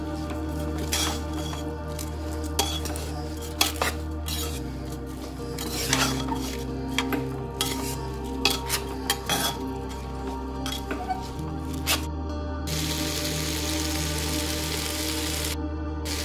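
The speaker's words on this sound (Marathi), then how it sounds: "अर्धा मिनिट तांदूळ छान परतून घेऊयात।" Washed rice stir-fried in a pan for soybean vegetable pulao, with repeated clinks and scrapes of a spoon against the pan over a low background hum, no talking.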